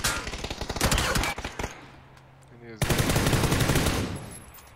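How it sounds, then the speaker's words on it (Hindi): Rapid automatic gunfire crackles in a PUBG match, two loud bursts separated by a brief quieter gap, close and sustained like an exchange of fire. "ये जवाबी फायरिंग मजा आएगा देख के। जवाबी कार्रवाई कर रहा है।"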